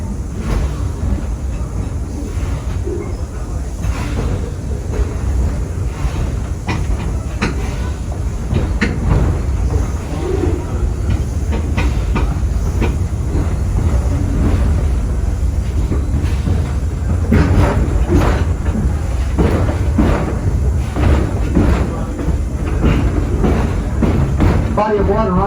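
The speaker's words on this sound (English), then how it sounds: "Engineers slowed the train down." A train rolls slowly along track slowed for track work near the Suwannee Lagoon on the Torch Lake ride, giving a steady close rumble with scattered clicks and clanks over the full stretch, with voices underneath.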